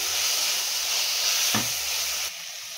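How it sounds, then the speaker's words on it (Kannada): Chilli masala powder frying in a hot pan while cooking fighting rooster (koli) biryani, giving a loud, continuous close sizzle with one brief stirring scrape, no voices. "ಇದನ್ನು ಹಾಕಿ ನೀಟಾಗಿ ಫ್ರೈ ಮಾಡ್ಕೊಳ್ತಾ ಇದ್ದೀನಿ"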